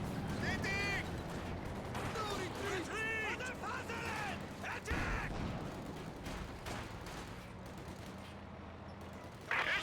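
Light artillery barrage in the World War II strategy game Company of Heroes 2, heard as a string of sharp shell blasts and crackling impacts under steady commentator talk.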